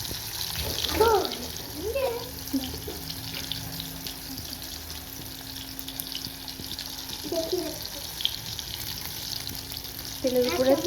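Sugar and spices, including Kashmiri chilli powder, frying in hot oil in a home kitchen, a steady faint sizzle running throughout beneath occasional voices and clinks.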